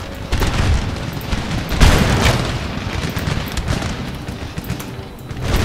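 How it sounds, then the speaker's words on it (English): Dense, continuous crackle of musket volleys from line infantry in Empire: Total War, many overlapping shots rolling together into a steady battlefield roar with occasional heavier booms. "everyone, just keep firing"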